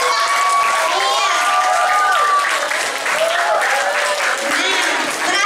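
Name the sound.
audience applause for debate candidates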